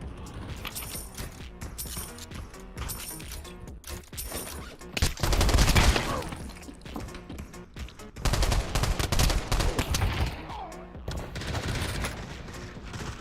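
SMG gunfire in the VR shooter Pavlov, loud bursts of automatic shots clustered in several volleys, with mechanical weapon handling clicks between them and a voice talking at times.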